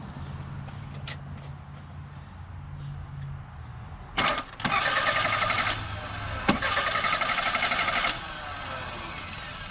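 A Toyota Camry engine cranks during a cylinder compression test, a steady rapid churning that starts abruptly after a quiet stretch and runs about four seconds before stopping, close and moderately loud.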